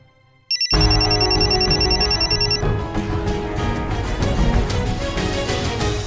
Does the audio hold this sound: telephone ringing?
yes